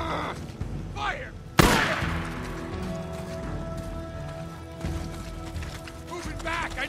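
Gunfire in the video game Days Gone: a sharp loud blast followed by scattered shots and rumbling battle noise, with voices shouting in the background.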